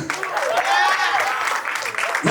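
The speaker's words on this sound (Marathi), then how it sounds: "जोरदार टाळ्या." Loud, dense applause from a crowd at a lively game-show event, sustained clapping close by with a voice cutting in near the end.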